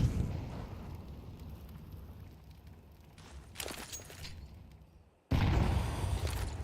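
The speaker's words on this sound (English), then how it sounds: "big nade to kick things off from U-Jerks" Grenade blast in a competitive esports shooter match, a deep loud boom that erupts suddenly after a near-silent gap and rumbles on, preceded by quieter ambience, shuffling and a brief sharper burst.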